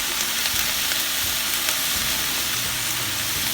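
Onions and turmeric powder fry in a pan for a kadhai paneer base, giving a dense, even sizzle with light stirring scrapes and no voices.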